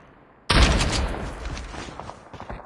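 Sniper gunfire in the Call of Duty video game: a single sharp, loud report, followed by a long, fading echo and rumble with no voices.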